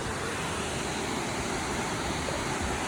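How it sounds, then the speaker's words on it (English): A waterfall rushes in a steady, broadband roar beside a rocky trail, continuous and moderately distant with no voices over it. "Beautiful waterfall."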